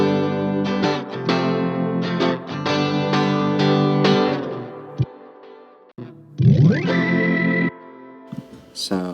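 Soloed organ layered with electric guitar passing through effects, sustained chords and rolling notes with distortion, chorus and echo, loud and close before a brief gap and a swelling guitar phrase.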